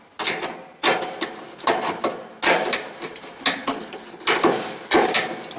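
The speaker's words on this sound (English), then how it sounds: "This is just a 3/8 inch wrench. Just to snug them down." A 3/8 inch wrench snugs down motor bolts on a 1977 Westinghouse electric dryer that sat underwater in Hurricane Katrina, making a run of sharp, evenly spaced ratcheting clicks, close and fairly loud, with no talk.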